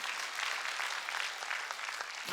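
Members of a church congregation at a Wednesday worship service clap together in a brief, even wash of applause, moderately loud and unbroken, with no voices over it.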